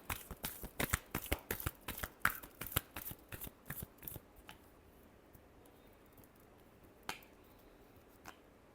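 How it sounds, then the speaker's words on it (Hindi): Tarot cards shuffled by hand, a quick run of crisp riffling snaps for about four seconds, then quiet with one or two soft card taps later, close and fairly faint. "Last shuffle."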